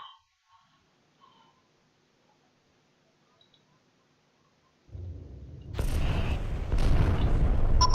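A large ship, the Neo Ethertech, blowing up in the space combat game FreeSpace 2: a few faint ticks and near silence, then a deep rumbling blast that swells and stays loud and roaring to the end.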